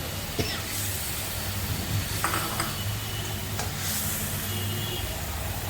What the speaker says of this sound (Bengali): এরপরে দিয়ে দিচ্ছি মাছগুলো।